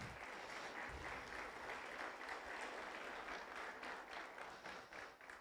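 A church congregation claps for Jesus in a sustained, rhythmic burst of many hands at a worship service, fairly faint and continuous.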